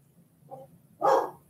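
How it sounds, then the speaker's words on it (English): A rescue dog indoors gives a soft low woof followed by one louder, fuller bark, close by in an otherwise quiet room. "Now he's going to bark."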